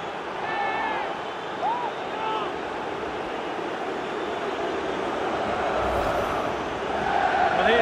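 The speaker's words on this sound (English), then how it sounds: "The crowd have gone crazy, and quite rightly so." A stadium crowd in the FIFA 20 football video game, a Champions League semi-final on PS4, roars after a goal: a dense, steady wash of cheering that swells toward the end, with some whistles heard through it.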